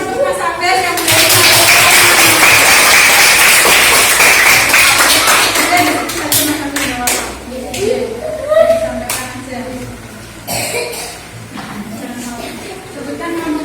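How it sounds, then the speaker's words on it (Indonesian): A classroom applauds a student with a dense burst of clapping that fades after several seconds, followed by a teacher speaking and light tapping. "Kita beri tepuk tangan untuk Mas Abes yang berani"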